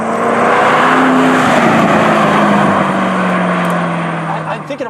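A Ford GT engine at half throttle roars loudly and close, its pitch climbing steadily as it accelerates, then easing off near the end.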